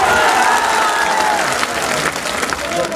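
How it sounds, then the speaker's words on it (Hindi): Crowd at a Bihar election rally applauding a speaker's introduction, a loud dense roar of clapping with some cheering, lasting about three seconds and dipping slightly midway. "सुफियान के लिए जोरदार तालियां बजाइए।"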